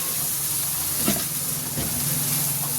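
Tomato and whole cumin paste frying in a pan with onion and garlic, a steady soft sizzle and hiss with a few brief stirring clinks.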